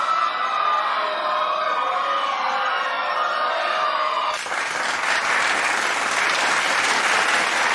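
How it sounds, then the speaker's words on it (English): Audience applause after a debate, a dense steady wash of clapping from a large crowd that holds at full strength throughout, with a brief shift in tone midway and no clear voices. "Let's go ahead and give them a round of applause."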